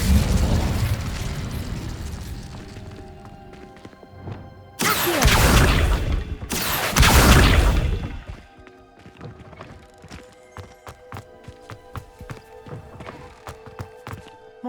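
Incendio fire spell cast at cobwebs in Hogwarts Legacy, two loud roaring whooshing bursts of flame in quick succession, standing out over quieter game ambience, footsteps and soft clicks.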